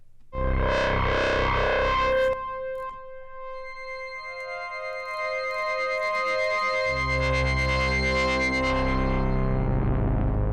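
A distorted synthesizer plays loud, buzzing sustained notes. The tone thickens into a gritty, heavily saturated drone with a deep low end.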